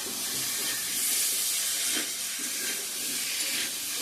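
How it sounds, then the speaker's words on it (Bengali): Egg curry with potato and cauliflower sautéing in a pan: a steady, close hiss of frying that holds fairly even throughout, with a few faint soft knocks underneath and no talking. "ভালো করে কষিয়ে নিব।"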